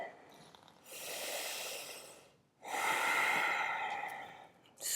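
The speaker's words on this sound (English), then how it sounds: "And just hear your breath." Slow, deep breathing during a beginner hatha yoga session: two long, soft exhalations separated by a quiet pause, close and gentle, with another breath starting at the end.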